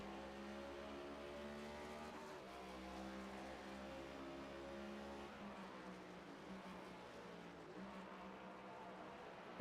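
A race car engine in the iRacing game at Watkins Glen revs as the car accelerates out of the carousel, its tone rising and holding steady. The sound is faint and distant throughout.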